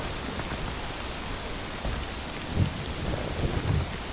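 Steady rain pours in the Civil War game War of Rights while low thunder rumbles a few times, the downpour a constant hiss with heavier rolls of thunder toward the end.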